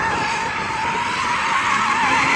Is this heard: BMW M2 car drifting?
yes